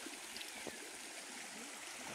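Flowing river water at a riverside swimming spot, a quiet steady rush with a soft trickling texture and no talk.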